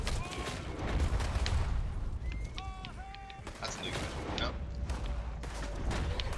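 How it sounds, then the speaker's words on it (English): Gunfire from several guns in the Red Dead video game crackles through the clip in scattered bursts over a steady din, while people talk over the shooting. "Oh, I'm surrounded by gunfire at the moment."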